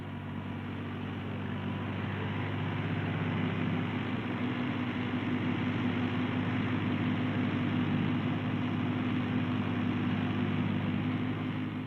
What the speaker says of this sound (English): The big 32 horsepower 3-cylinder diesel engine of the 1910 is solid and reliable